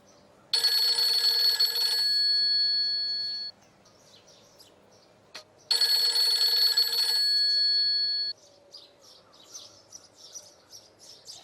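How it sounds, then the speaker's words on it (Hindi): An electronic telephone ring sounds twice in long bursts separated by a pause, loud and close, with faint chirps after. "शायान का ही फोन है।"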